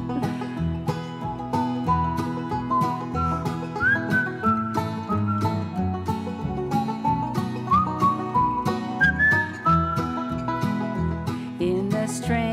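A person whistles a melody along with instrumental music in a worship setting, steady and clear over a rhythmic accompaniment.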